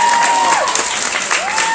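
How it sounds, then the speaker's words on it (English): Loud, dense clapping from a crowd fills the whole stretch, with a whistling tone gliding faintly above it. "Give Jan a big round of applause."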